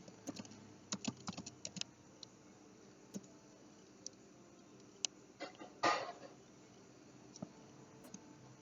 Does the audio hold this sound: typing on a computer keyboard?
yes